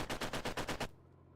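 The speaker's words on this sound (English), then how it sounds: "That's a French LMG." A French LMG fires in a video game as a rapid burst of about eight evenly spaced loud shots, which then cuts off into a faint low hum.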